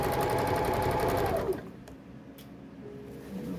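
Sewing machine running fast on a back bodice side seam with back stitch, a steady rapid mechanical whir and needle chatter that stops abruptly halfway, leaving light handling noise and faint rustles nearby.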